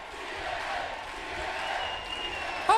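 Wrestling crowd at a prime-time Jeff Jarrett King of the Mountain event, a steady roar of cheering and applause filling an arena, fairly loud and continuous, with a brief sharper burst at the very end.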